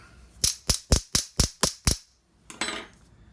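A blackcurrant and liquorice bath bomb mould is tapped six times in quick, even succession, sharp close knocks, followed after a pause by a softer rustling clatter.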